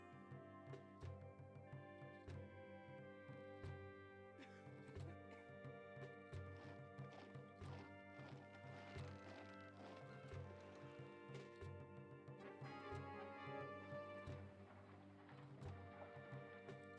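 Trade donkeys' hooves clip-clopping in the city-building game Caesar 3, a steady patter of hoofbeats under continuous tonal background music, faint and somewhat buried throughout.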